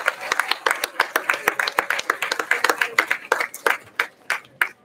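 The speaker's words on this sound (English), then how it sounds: "Let's give another round of applause to Selena, Colin, and our very talented music teachers." A school audience gives a round of applause for student performers and music teachers at an anniversary celebration, a dense, steady patter of many hands clapping with sharper individual claps standing out, fading toward the end.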